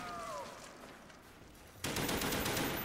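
Gunfire in Call of Duty Black Ops zombies mode, heard as a quiet stretch of game ambience and a faint tonal sound, then a sudden, louder burst of rapid shots near the end.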